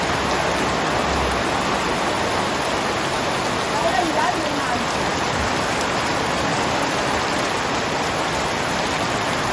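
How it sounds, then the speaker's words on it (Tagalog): Steady, dense rain hissing without a break, a heavy downpour close by, with faint voices now and then beneath the wash. "Grabe, lakas ng ulan ha."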